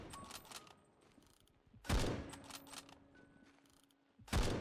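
K14 bolt-action rifle fired in the video game Phantom Forces: three loud, sharp reports spaced about two seconds apart, each with a decaying tail, and faint game ambience in between.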